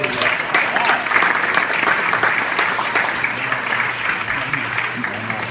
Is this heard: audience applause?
yes